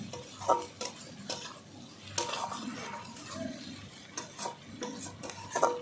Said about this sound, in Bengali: এই দেখো ভালো করে আমি কষিয়ে নিচ্ছি, এইভাবেই নাড়িয়ে চাড়িয়ে কষিয়ে নিতে হবে।